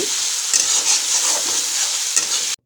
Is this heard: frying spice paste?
yes